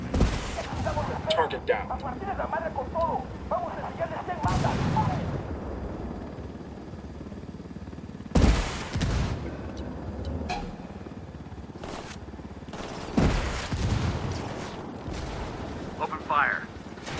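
Heavy gunfire bursts in a combat scene, with several loud, booming volleys at irregular intervals, separated by stretches of quieter rumble, while voices exchange brief radio-style calls.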